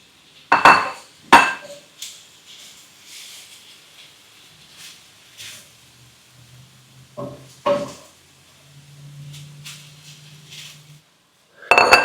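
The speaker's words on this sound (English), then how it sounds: "And then I'll just add the rice to the pan simply to mix it up." Rice is stirred into a cooking pan, with a few sharp metallic clanks of a utensil against the pan, then a quiet stretch, a low simmering hiss and more scattered scrapes and knocks.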